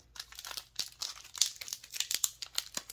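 Crinkly plastic wrapper of a Pokémon Obsidian Flames booster pack being torn open, with a steady run of close, sharp crackles and rustles over about three seconds and no talking.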